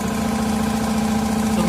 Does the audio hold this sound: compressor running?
yes